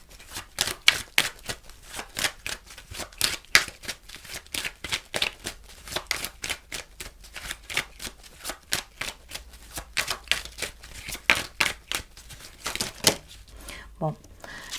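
Tarot-style cards riffled and drawn, a dense run of quick, crisp slapping flicks repeating steadily at close range, ending with a few softer handling rustles.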